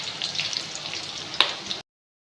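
Curry leaves and green chili sizzle in hot tempering oil for Gujarati khaman, a steady close crackle with one sharp pop before the sound cuts off abruptly.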